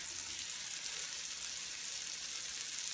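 Falafel mixture cooking in a pan gives a steady, even sizzle and hiss throughout, close and moderately quiet, with no talking.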